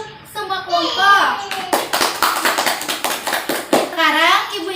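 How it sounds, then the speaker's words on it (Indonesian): Schoolchildren in an Indonesian classroom clap for all the presentation groups, a burst of loud close hand claps with children's voices and cheering on either side of it. "Tepuk tangan untuk semua kelompok."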